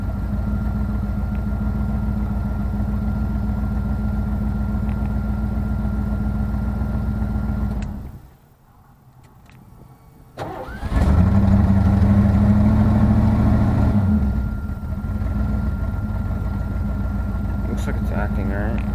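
A 1990 Ford F-150 pickup truck engine idles with a low, even rumble, briefly dropping away midway before returning slightly louder and rougher.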